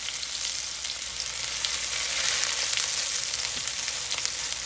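Onions fry in plenty of hot oil for a brown gravy, a loud continuous sizzle with scattered small pops, close up and without voices.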